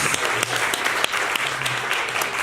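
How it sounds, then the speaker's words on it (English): Audience applause for a panel at a World AIDS Day event, a steady dense clapping that holds evenly for a couple of seconds with no one speaking over it. "Let's give our panelists a round of applause."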